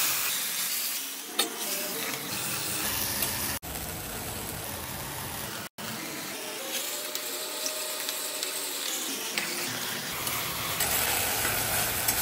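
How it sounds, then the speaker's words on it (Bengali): Ginger, garlic and chili paste fries in hot oil over low heat, a steady close sizzle with stirring scrapes and a couple of brief clatters, no voices. "এর মধ্যে দিয়ে দেব যে আদা রসুন, অল্প রসুন আর আদা দিয়ে লঙ্কা দিয়ে যে পেস্টটা বানিয়েছিলাম সেটাকে দিয়ে দেব"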